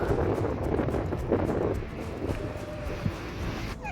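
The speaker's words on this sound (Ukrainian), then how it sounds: "Вітер прямо як у рідних степах." Steady, blustery wind in Greece in February buffets the microphone throughout, a dense low rumble with gusts swelling and easing, and no voices.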